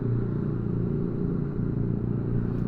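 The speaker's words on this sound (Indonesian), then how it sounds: "knalpotnya berisik banget nih" A Honda CB150X motorcycle on a touring ride runs with a loud, steady exhaust rumble close by, a continuous low drone with no talking.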